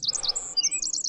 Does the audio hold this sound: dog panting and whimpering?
no